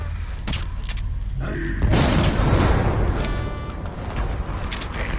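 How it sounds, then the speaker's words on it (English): In Metal Gear Solid 5, a vehicle crashes and explodes with a heavy boom about two seconds in, followed by a rumbling, roaring decay amid mechanical noise; loud and close. "Boss, did you see that explosion?"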